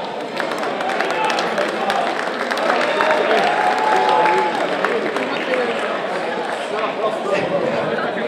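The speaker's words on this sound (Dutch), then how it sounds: "Uw applaus graag voor Guido Breepoets" Applause from a crowd welcoming Guido Breepoels, a Limburg football figure, at a provincial league announcement evening: dense, steady clapping over several seconds with cheering and chatter mixed in, filling the room at even loudness.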